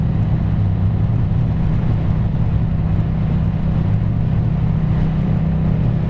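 Yamaha FZ-07 motorcycle riding on a road, a steady loud engine drone with heavy low rumble and wind noise held at constant pace throughout, no talking.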